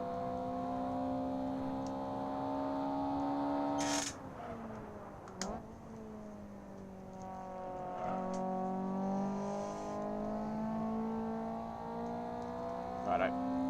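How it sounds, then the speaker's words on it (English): Race car engines in the racing game Assetto Corsa drone and rise in pitch, with a couple of sharp gear-change drops and a passing whoosh, all heard at low level beneath occasional conversation. "The cars there, they actually sound kind of cool."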